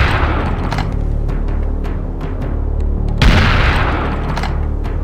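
Gunfire in the shooter video game Serious Sam: The First Encounter, with rapid repeated shots and booming impacts layered over a constant heavy rumble, loud and close, with a bigger blast near the end.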